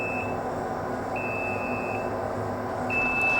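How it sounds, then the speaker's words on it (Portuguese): Temperature alarm from Artisan roasting software on an Atilla Gold Plus coffee roaster, a thin electronic beep repeating in short steady tones over a constant low hum of the running machine. "Observa que a temperatura atingiu 100 graus, ele apitou o alarme"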